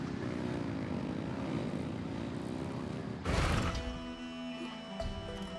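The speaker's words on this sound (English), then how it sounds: "Rev the engines!" Engines rev in the Genshin Impact Nod Krai event, a steady droning engine hum that swells, then a loud crash and a higher, shifting mechanical whine afterward.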